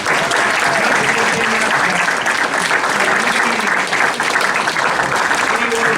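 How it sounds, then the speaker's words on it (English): Sustained, loud applause from an audience at a town council meeting honouring former mayors, steady clapping filling the room throughout with crowd murmur mixed in. "Give them a round of applause."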